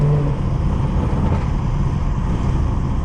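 A modified BMW 440i cruising on a highway gives a loud, steady rumble of engine and road noise heard from inside the car, a constant low drone throughout.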